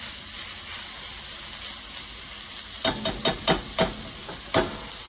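Chopped onion for a creamy chicken soup cooks in a pot with a steady, fairly faint sizzle, then a run of spoon scrapes and taps as it is stirred.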